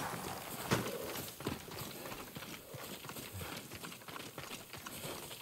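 Horse hooves clip-clopping at a steady gait in the video game Ghost of Tsushima, soft and fairly faint under ambient game sound.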